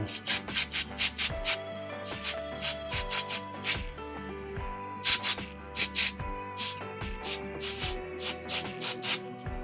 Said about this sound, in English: I'm going to put a little bit of compressed air here